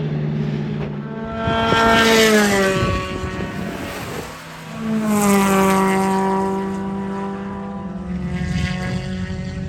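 Race cars lapping a track alongside Spec Racer Fords and a spec MX-5, loud engines rising and falling in pitch as they pass, one fading out then another swelling in.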